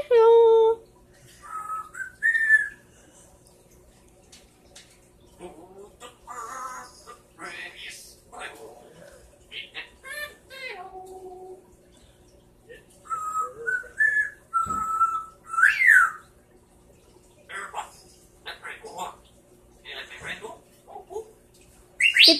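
A pet bird with a big red tail whistles and chirps in bursts of varied melodic phrases, close and fairly loud, with a person talking to it in between.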